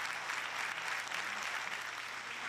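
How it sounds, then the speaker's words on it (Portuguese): Applause from newsroom journalists across Brazil honoring a late fellow journalist, a steady, moderately distant wash of many hands clapping together, heard alone without speech. "A gente vai ouvir um pouquinho, então, desses aplausos aí."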